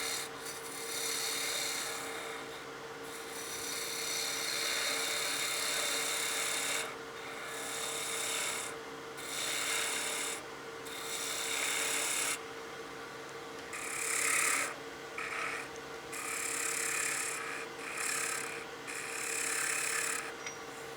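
Wood spinning on a lathe while being shaped into a wine glass gives a steady, close rasping and scraping of the tool on the workpiece. The rasping comes in long passes broken by short pauses, with a faint motor hum underneath and no talking.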